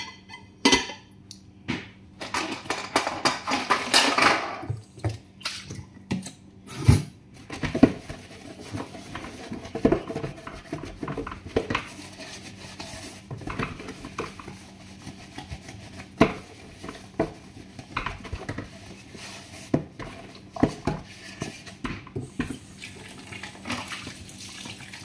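Dishes are washed by hand in a kitchen in Jordan, with running tap water, clinking plates and cutlery, and scrubbing in irregular close bursts for the whole stretch.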